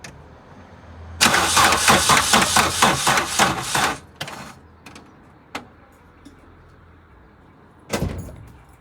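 A Vauxhall Cavalier fitted with a C20XE engine cranks sluggishly on a weak battery in a rapid, labored burst of about three seconds, followed by a few isolated clicks and one more short crank attempt.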